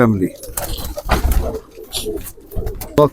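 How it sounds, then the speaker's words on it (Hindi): Soft coos of Khatang pigeons sound close by between bits of nearby talking and small rustling noises. "ये दोस्तों कबूतर है माशाल्लाह जी, खतंग।"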